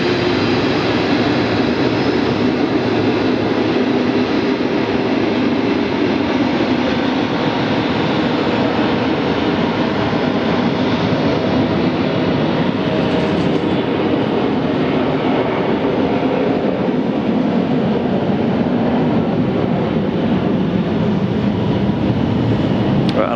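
Airliner jet engines spool up for takeoff at an airport, a loud, continuous broadband roar that holds steady and dense throughout, heard from a spotting position with no pauses.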